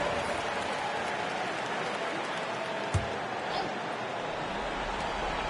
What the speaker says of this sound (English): Get yourself a round of applause.